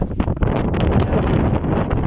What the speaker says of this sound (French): Oh purée, il y a du vent en plus.